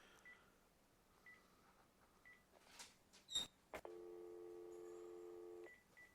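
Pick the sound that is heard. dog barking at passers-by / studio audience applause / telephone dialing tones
telephone dialing tones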